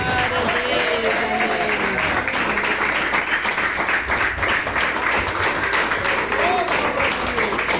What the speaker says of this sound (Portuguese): Vamos receber o nosso irmão pastor Lucas, com as palmas